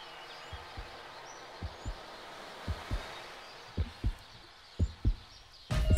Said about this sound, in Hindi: दिल की धड़कन